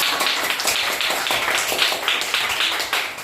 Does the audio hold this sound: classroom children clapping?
yes